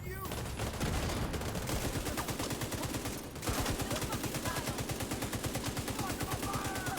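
A light machine gun in The Division 2 fires long, rapid bursts of shots close up, with a brief pause before a second sustained stream of fire.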